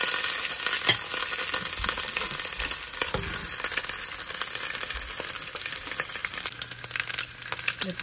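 Pork chops fry in a large pot with very little oil, a steady close sizzle broken by stirring and scraping clatter and occasional utensil knocks.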